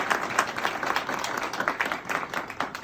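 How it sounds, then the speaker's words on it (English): An audience at a community Land Day gathering claps together, a brief burst of moderately dense applause with some distinct individual claps, steady and fairly close. "Let's give a round of applause to my brother"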